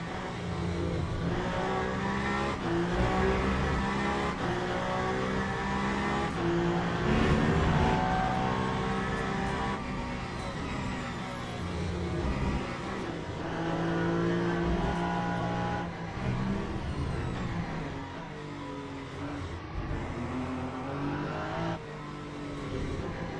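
Peugeot race car engine in Le Mans Ultimate at Interlagos during a WEC race, a steady loud drone that rises and falls with revving and shifting, heard alone throughout.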